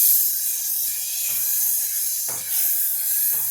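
Steady sizzling hiss from a hot pan as rice is roasted for Maharashtrian narali bhat, with a few faint scraping stirs, close and continuous, no talking.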